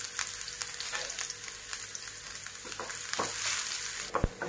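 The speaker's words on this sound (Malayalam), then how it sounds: "വെളിച്ചെണ്ണ ഒഴിച്ചു, കടുകിട്ടു, കൊച്ചുള്ളി," Mustard seeds and small shallots sizzle in hot coconut oil in a pan, a continuous crackling fry with scattered sharp pops and spits, steady and close with no talking.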